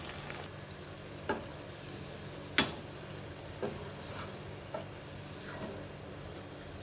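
Sweet corn vadas with bottle gourd (sorakaya) fry in hot oil, giving a steady low sizzle broken by a handful of sharp ticks and pops spread across the stretch, with no one speaking.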